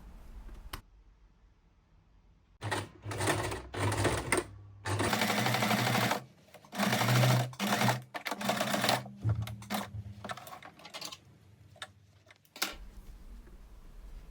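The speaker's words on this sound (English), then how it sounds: "sew close about ½ centimeter along the zipper tape from the top edge down to just before the bottom of the facing" A sewing machine stitches close along the zipper tape of a pair of wide-waistband pants. It comes in several loud bursts of rapid mechanical chattering, with short pauses and clicks between runs as the stitching starts and stops.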